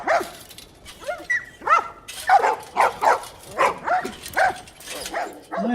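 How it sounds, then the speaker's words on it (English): Dogs bark repeatedly in a TV drama scene, a steady run of sharp, fairly close barks and yips with a whimper, overlapping one another at an outdoor trading stall. "Well, it's nice to know dogs are still around."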